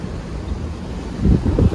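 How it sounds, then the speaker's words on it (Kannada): Water released over the Hidkal dam rushes in a steady, broad roar with wind-like noise, growing a little louder and surging toward the end. "ಏಕದಮ್ಮ ನೋಡ್ರಿ ಹೆಂಗೆ ಹರಿಯತೈತಿ ನೀರು"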